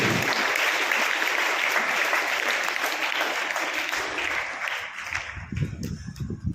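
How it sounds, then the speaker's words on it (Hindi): Loud, sustained clapping from a large audience at a school student performance event, dense and continuous, thinning slightly toward the end as a few louder claps stand out. "एक बार जोरदार तालियां"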